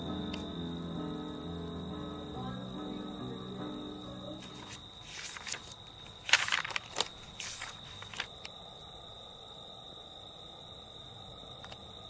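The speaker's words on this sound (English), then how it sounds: "nothing better in the summertime than a cool evening and the sound of cicadas and crickets" Crickets and cicadas on a summer night in Scopello, Sicily, hold a steady, high-pitched trill throughout, with a few soft footsteps and rustles in the middle.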